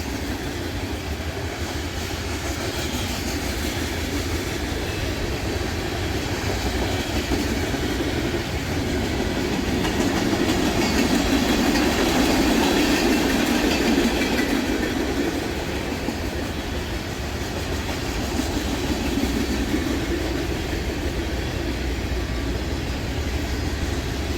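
A loaded freight train rolls steadily past on Main Street in Huron, Ohio, carrying tank cars of vinyl chloride, petroleum and ethanol: a continuous broad rumble and rail clatter that swells slightly midway, close and sustained with no voices.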